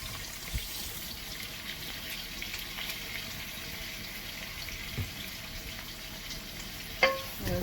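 Cabbage stir fry with ginger and garlic cooks in a pan, giving a steady soft sizzle with occasional light stirring clicks and a small clatter near the end, no voices.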